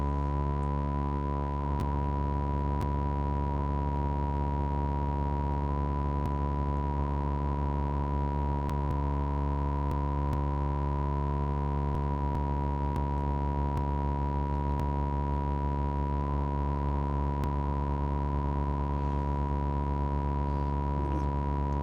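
A Korg modular synthesizer oscillator holds a steady electronic tone while being tuned, the pitch sliding slightly and settling with small shifts, continuous and alone with no talk.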